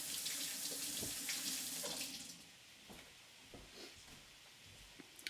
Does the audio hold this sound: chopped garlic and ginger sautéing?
no